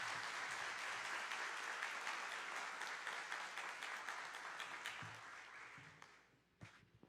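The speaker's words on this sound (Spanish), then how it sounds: "Fuerte el aplauso para nuestro invitado internacional." An audience applauding a guest speaker at a citizen-security conference forum in the Dominican Republic: dense, sustained clapping that gradually thins and fades, ending with a few isolated claps.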